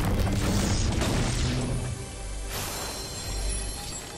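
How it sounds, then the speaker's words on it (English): A grenade launcher explosion in a video game, a loud, sustained boom with crashing, mechanical clatter that fades slightly over about four seconds. "That's grenade launcher"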